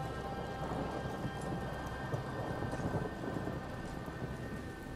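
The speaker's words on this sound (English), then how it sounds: "Is there a storm rolling in?" A thunderstorm rolling in within the God of War video game, with a steady broad wash of rain and low thunder rumbling continuously and fairly loud throughout, with no speech.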